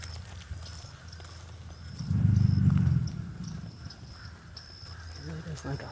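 An alligator bellows during mating season at Circle B Bar Reserve in Florida: one loud, deep, rumbling bellow rises midway and fades over about a second, with faint birdsong and outdoor ambience around it.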